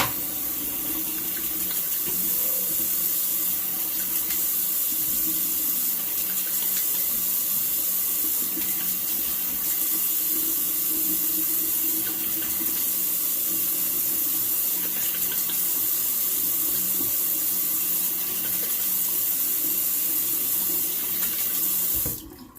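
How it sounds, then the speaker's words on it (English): Tap water runs steadily and close by for a cold rinse after a shave with a Razorock Game Changer .84 Jaws razor, a constant splashing flow that fills the whole stretch and cuts off abruptly at the end. "gonna go ahead and do a cold water rinse"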